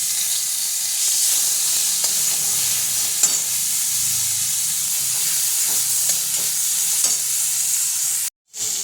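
Chopped onion sizzles steadily in hot oil with black cumin in a pan, with a constant bright hiss and occasional soft scrapes of stirring, close and fairly loud.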